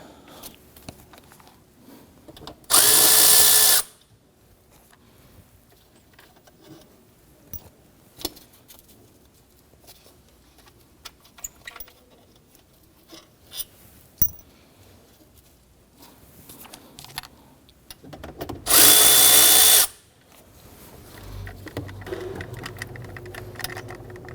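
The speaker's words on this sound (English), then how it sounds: "Going to remove all of these bolts." A power drill backs out bolts on the engine of a 2011–2015 Kia Sorento during an oil pressure switch replacement. Two short loud whirring bursts are far apart, with quiet clinks and handling noises between them.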